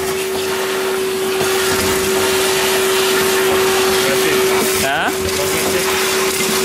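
A vacuum sucks water from the drain slot of an iced-up freezer display cabinet with broken fans, a loud, steady droning roar. A person briefly speaks over it.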